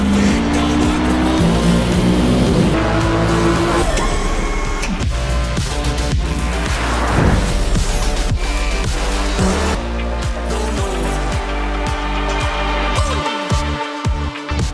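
Loud, continuous racing-car engine roar with tire squeal and skids from a Nintendo Switch 2 racing game, mixed under steady game music throughout.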